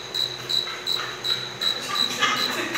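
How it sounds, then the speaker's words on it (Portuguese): Crickets in a house in Ribeirão Preto, Brazil, chirping in a steady repeating pulse of short bursts, close and moderately loud over a faint background hiss. "Esse é o grilo."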